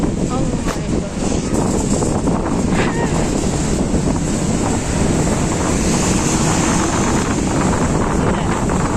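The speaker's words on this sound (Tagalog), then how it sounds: "So strong wind." Strong typhoon wind in Hong Kong roars continuously into the microphone, a loud, unbroken buffeting rush that persists through the whole stretch with no letup.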